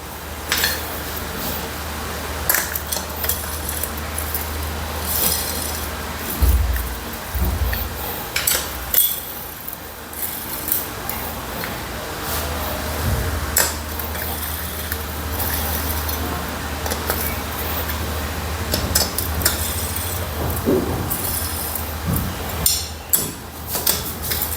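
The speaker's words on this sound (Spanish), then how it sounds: "Primero apretamos suave hasta donde lleguen los pernos y luego le hacemos un apriete completo." Engine bolts being tightened by hand on a 250cc CGP motorcycle engine with a connecting-rod knock, giving scattered metallic clinks and tool taps over a steady low workshop hum.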